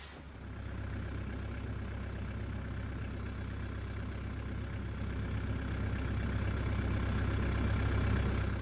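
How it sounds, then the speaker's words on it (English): A farm tractor's engine idles steadily nearby, a continuous low rumble that holds even and unbroken throughout with no talk over it. "So as you can see behind us, we got the tractor out."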